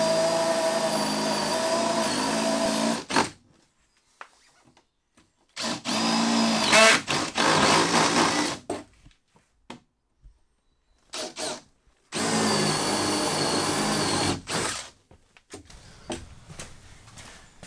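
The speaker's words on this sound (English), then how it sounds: "I have to drill holes to run all the cables" A power drill whines loudly in three long bursts of a few seconds each, boring cable holes in a trailer house, separated by quiet gaps with a few short clicks and knocks.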